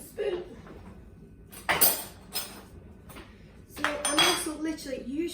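Spoon clinking and scraping against a dish while mixing chia seed cracker dough, in a few bursts of close metallic clatter separated by quieter pauses.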